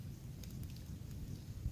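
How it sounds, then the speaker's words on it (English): Hail and rain pelting down outdoors during a big-game hunting trip, a steady low rumbling wash with scattered sharper ticks of stones striking cover, continuous and fairly quiet, no voices. "Getting hailed on right now."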